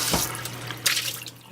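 Boiled pork being rinsed under a running kitchen tap, a steady broadband splash of water into a sink with a brief louder gush near the end, close and alone with no talk.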